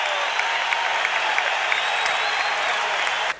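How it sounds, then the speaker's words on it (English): An NBA arena crowd at an Orlando Magic home game against the Detroit Pistons cheers and applauds at halftime. The dense roar of clapping and cheering holds steady throughout and cuts off sharply at the very end. "listen to the crowd"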